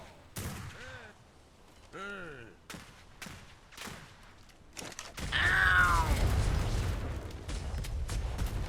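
Small arms gunfire in a naval roleplay video game, shots fired from the top of a mortar tower: a loud burst of rapid, overlapping cracks and booms with sharp transients scattered around it, under in-game voices.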